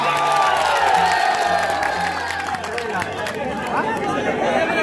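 A large crowd at an election rally in Jokihat, Bihar cheers and claps, a loud wash of noise with scattered whoops, while a voice carries over the top.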